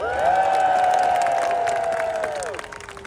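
A Comic-Con panel audience for Starship Troopers cheers, whoops and shouts loudly after a countdown, a dense sustained crowd roar that tapers off near the end.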